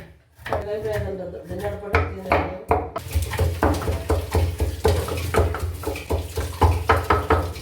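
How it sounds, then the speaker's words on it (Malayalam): Repeated dull knocks of a pestle pounding ginger and garlic in a mortar, a steady thumping rhythm that follows a brief stretch of speech. "ഇഞ്ചിയും വെളുത്തുള്ളിയൊക്കെ ഇതിൽ കുത്താൻ വിചാരിച്ചിട്ടാണ്"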